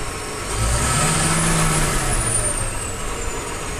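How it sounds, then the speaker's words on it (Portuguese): A large sugarcane harvester's engine roars close by, revving up after a moment and holding a loud, steady drone with a high turbine whine. "Barulho desse trator, cara, que coisa bonita."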